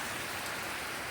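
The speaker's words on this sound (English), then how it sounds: "This rain is crazy." Heavy rain falling in Asheville, North Carolina, just before Hurricane Helene in September 2024. It is a dense, steady hiss of downpour, close and loud throughout, with no voices.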